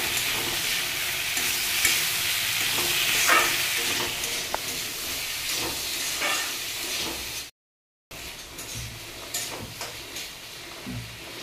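Onions and potatoes fry in a pan with a constant close sizzle and hiss, broken by occasional stirring clinks and a short gap of silence partway through.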